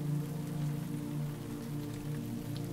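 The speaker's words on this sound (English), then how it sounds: "The thatched roof softens the sound as if the raindrops fall on a bale of hay." Steady rain falls on a thatched roof, making a soft, muffled, continuous patter under a low background hum with no voices.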